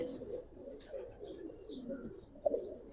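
Giribaz pigeons at a loft coo in soft low burbles, fairly faint, with a few brief higher chirps and a short thump near the end.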